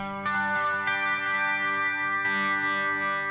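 Sustained electric guitar chords through a Headrush pedalboard, drenched in reverb with a swirling, sweeping flanger effect, loud and continuous with a few re-struck chords.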